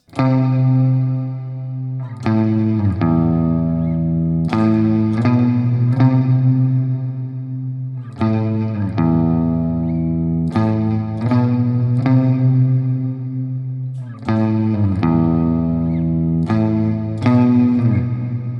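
A heavily processed electric guitar plays sustained, shimmering chords with distortion and chorus, each strike ringing out before the next, loud and alone.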